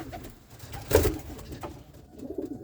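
Pigeons coo softly in a loft where a pair has been mated and nesting, one fuller coo rising in the middle against faint, murmuring background calls.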